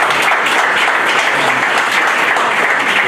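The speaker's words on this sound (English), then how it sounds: "So please, one last time, give yourself a round of applause." Dense, loud applause from an audience gathered at a community center event, a continuous wash of clapping filling the brief moment with no speech.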